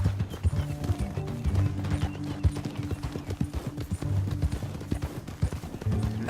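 Horse in the Red Dead Redemption 2 video game, a steady rhythm of clip-clopping hooves close by with a brief whinny over low background music.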